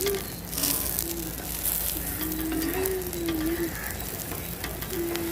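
Bread coated in omelette frying in a pan sizzles softly and steadily, with occasional scraping and stirring noises over a faint background tone.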